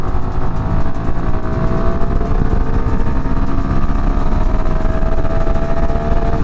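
A motorcycle goes full throttle from 45 at 6,000 RPM, its engine a loud, continuous roar with a steadily rising pitch, heard close-up over steady wind.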